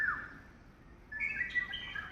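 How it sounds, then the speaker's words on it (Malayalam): An Asian koel calls faintly at dawn, a short rising whistle followed after a pause by a brighter run of notes, singing alone against a quiet background. "കുയിലും പാടുന്ന കേട്ടില്ലേ"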